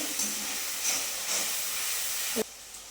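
Onions sizzle and hiss loudly in hot oil while cooking for a chicken leg-piece fry curry, a continuous close steamy crackle that cuts off sharply near the end.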